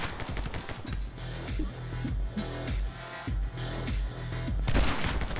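Shotgun blasts in My Friend Pedro go off in rapid, repeated bursts of sharp, punchy gunfire, with brief gaps between volleys and a louder blast near the end.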